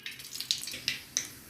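A teaspoon of mustard seeds pops in hot oil, faint crackling under a soft hiss with a few sharper pops spaced irregularly.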